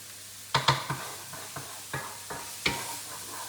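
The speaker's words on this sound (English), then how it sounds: "That's probably medium heat is fine because you don't really want to burn the onions." Onions fry in a pan over medium heat, with a soft sizzle under repeated sharp scraping and stirring taps at an uneven pace.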